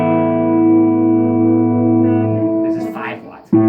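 A Takamine GX-100 acoustic guitar plays through a small 5-watt lunchbox tube amp with digital reverb turned way up, giving a sustained, ringing chord that washes out before a fresh strum near the end.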